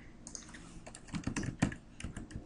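Typing on a computer keyboard while entering a case resolution in Microsoft Dynamics CRM, a quick close run of soft key clacks with a few louder strikes, steady rhythm, no voices.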